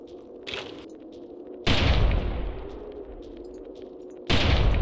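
Two loud, booming gunshots ring out in the hunting game Carnivores, each a sharp blast followed by a long decaying echo, spaced a few seconds apart.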